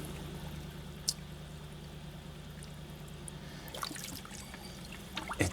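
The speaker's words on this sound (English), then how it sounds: "Water." Water trickles and pours steadily during a hand wash of a Honda Civic Si (EM1), faint and continuous over a low hum, with a few brighter splashes near the end.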